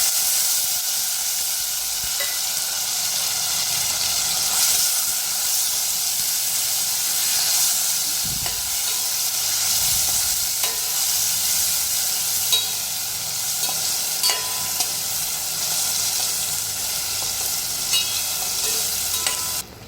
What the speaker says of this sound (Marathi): जिरं, मोहरी, कढीपत्ता तडतडली की आपण त्याच्यामध्ये टोमॅटो घालून घ्यायचा।